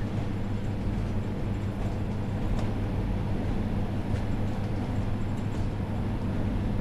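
Northern Pacer diesel train in Train Sim World 4 on the Blackpool branches, a steady low engine drone and rolling rumble under power, with faint clicks over the constant hum.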